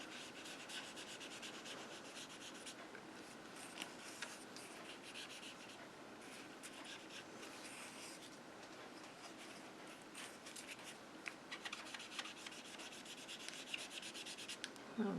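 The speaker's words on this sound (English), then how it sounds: "we're going to use the balmy blue and we're going to sponge this background" A sponge dabs and rubs blue ink across a card background, making a faint, continuous soft scuffing with no voices.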